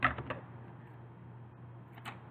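Scissors trim the string end on a handmade beaded lizard craft: a couple of quick, faint snips at the start and one more near the end, with a quiet room between.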